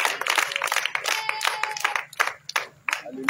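A church congregation at an evening worship service claps in bursts of sharp, uneven hand claps, loud and close, with brief tonal sounds and a few voices mixed in.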